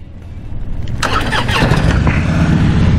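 A 2015 Harley-Davidson Tri Glide Ultra trike engine cranks and fires up, settling into a loud, close, rumbling idle that holds steady to the end.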